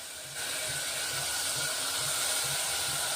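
Green peas sizzle in a hot pan for khichdi, a steady broadband hiss rising sharply as they hit the oil and continuing close and loud without pause.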